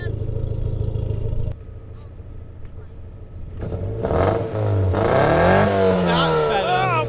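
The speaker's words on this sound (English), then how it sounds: "Give her a rev." A drift car engine revs hard, rising and falling in pitched climbs after a quieter idle, loud and close, with brief talk near the start.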